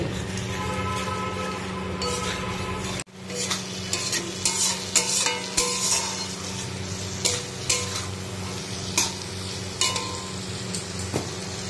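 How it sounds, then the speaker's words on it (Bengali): Spices, peas and potatoes are sautéed in a hot pan with a constant sizzle and repeated rhythmic scraping strokes of a spatula, close and fairly loud after a brief quieter opening. "এখন মশলাটা আলুটা ভালোভাবে কষিয়ে নিয়ে তারপরে জল দিয়ে দেবো"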